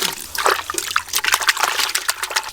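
Water poured in a fast, irregular gurgling stream, close and fairly loud, splashing in bursts throughout the short stretch with no talking.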